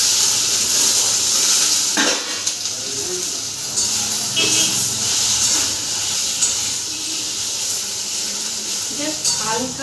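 Paneer cubes fry in butter in a wok, sizzling and hissing steadily up close with occasional stirring scrapes, while a voice talks over the cooking.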